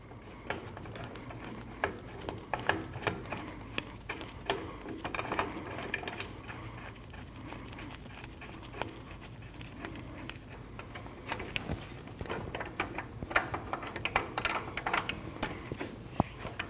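Installing brake caliper bolts on a 2012–2021 Nissan NV2500, a ratchet clicks in quick repeated runs, close and fairly quiet, with pauses and small metallic handling noises between strokes.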